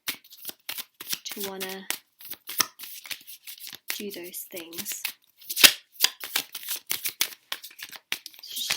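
Tarot cards riffle and slap in a long run of quick, crisp shuffles close by, with a voice talking briefly over them now and then.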